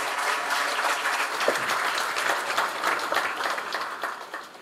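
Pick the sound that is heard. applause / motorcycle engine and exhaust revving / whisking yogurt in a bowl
applause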